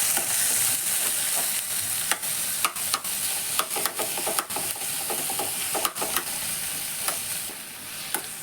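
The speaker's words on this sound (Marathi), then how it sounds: "कांदो, लसूण, टोमाट सगळें वांगडाच घालता. सो आतां हें सगळें बरें भाजून घेवपाचें" Onion, garlic and tomato fry together in a pan, a continuous sizzle broken by regular scrapes and clinks of a spoon stirring against the metal, close and alone.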